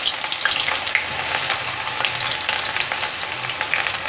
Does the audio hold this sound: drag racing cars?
no